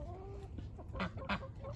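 An ordinary farmyard hen on a homestead gives a few short, close clucks over quiet background noise, with a faint bird-like tone early on.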